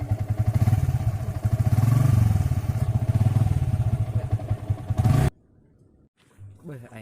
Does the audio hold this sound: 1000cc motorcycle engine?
yes